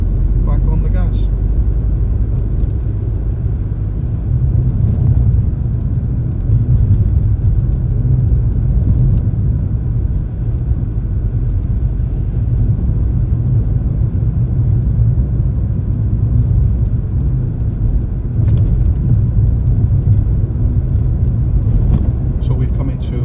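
A car drives along a road and speeds up, a steady low engine and road rumble heard from inside the cabin while a driving instructor talks over it throughout.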